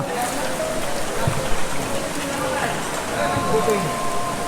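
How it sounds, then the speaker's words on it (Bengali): A narrow waterfall stream runs between rocks at Debotakhum in Bandarban, giving a steady, fairly loud rush and trickle of water throughout, with faint voices in the background. "এই পাথরের মাঝখান দিয়ে একটা সরু ঝর্ণা চলে গেছে"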